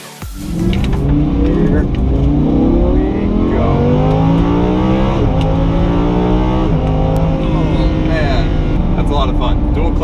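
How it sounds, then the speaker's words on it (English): A Lamborghini supercar with a 602-horsepower naturally aspirated V10 accelerates hard, its loud engine note climbing repeatedly through the gears with brief dips between shifts, close and sustained for the whole stretch. "602 horsepower V10, naturally aspirated"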